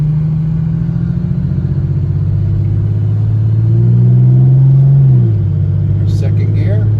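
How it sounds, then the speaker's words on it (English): A 2001 Porsche 911 GT3 tribute accelerates in gear, its engine a loud, close, steady rumbling drone that rises in pitch and then drops sharply as the driver backs off. "My foot's on the gas."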